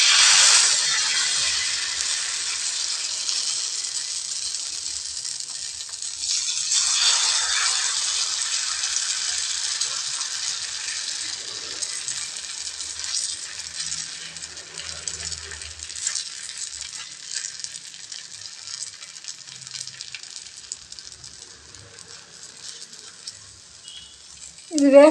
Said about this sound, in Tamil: மாவு எடுத்து தோசை ஊற்றிக்கலாங்க.